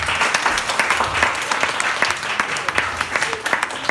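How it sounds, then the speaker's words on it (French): A live audience at a magic show claps loudly for Marie, a volunteer tied up with a small cord. The applause is close and dense, with many overlapping claps, and a few faint voices mix in. "On peut applaudir très fort Marie."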